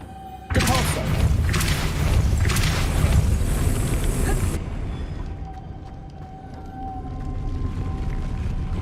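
A Depulso force spell cast in the Hogwarts Legacy video game bursts in with a sudden loud whoosh and rumbling thuds, sustaining a few seconds before cutting off to a quieter ambient hum with a faint tone.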